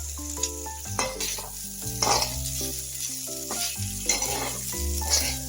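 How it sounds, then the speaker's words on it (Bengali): Onions and carrots sizzle and fry in a pan while a utensil stirs them, with steady crackling and a soft tune playing in the background. "পেঁয়াজের সঙ্গে গাজরটা কষিয়ে নিই এই ভাজা ভাজা করে নিই"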